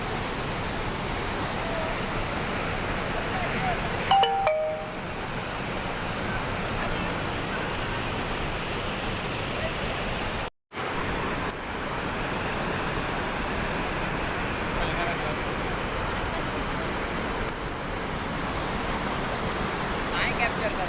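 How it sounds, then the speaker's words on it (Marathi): A strong stream in the Konkan in May, rushing water roaring steadily and loud for the whole stretch, with a brief dropout midway and a faint high chirp near the start. "मित्रांनो त्या साईडला बघू शकता पाण्याचा फ्लो किती आहे"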